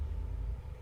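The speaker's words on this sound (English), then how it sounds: "there's a car leaving, in case you hear a rumble in the background." A car pulls away in the background, a low, steady rumble that stays faint and continuous, with no other sounds over it.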